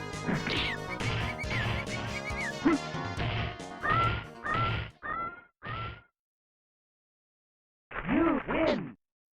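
A rapid string of punchy Super Street Fighter II hits and whooshes on the SNES with squeaky cartoonish yelps, then a short pause and two final bursts.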